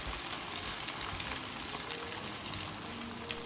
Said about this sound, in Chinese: 油熱之後，直接倒入雞蛋，把雞蛋炒散，炒至定型。